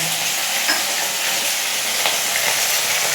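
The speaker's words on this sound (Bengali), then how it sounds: "আলু ভাজা হচ্ছে" Continuous close sizzle of potatoes frying in oil, an even hissing crackle with faint scraping from stirring throughout.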